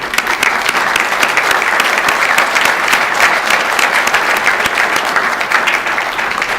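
Loud, close, continuous crowd clapping honors a police recruiting team at a department retirement, promotion and swearing-in ceremony, dense and unbroken for several seconds with no one speaking.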